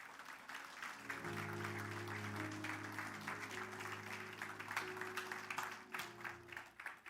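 A church congregation applauds together, a sustained wash of clapping lasting several seconds with a low musical drone beneath, fairly distant and gradually thinning toward the end.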